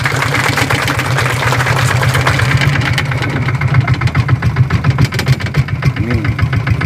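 A boat engine chugs steadily at close range on the Jatiluhur reservoir, a loud, rhythmic knocking drone that holds throughout, with people talking faintly over it.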